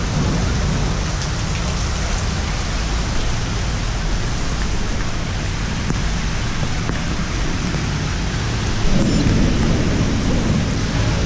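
Heavy storm rain pours steadily and loudly, with low thunder rumbling through it, a constant wash of noise that swells slightly near the end and has no voices over it.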